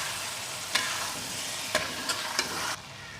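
Chinese-style chicken and vegetable spaghetti with chili sauce, soy sauce and vinegar is stirred in a sizzling pan, a steady frying hiss broken by a few sharp spatula knocks before it cuts off.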